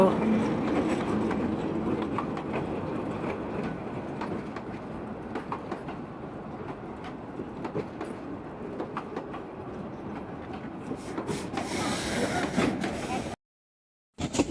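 A passenger train pulls into a rural station early in the morning, a continuous rumbling rail and wagon noise with clattering that builds toward the end before a brief silence, while people talk nearby.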